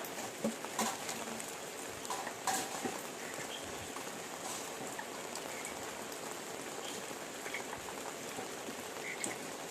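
Soft, steady rain patters on surfaces, with occasional sharper drips standing out against the quiet, continuous hiss.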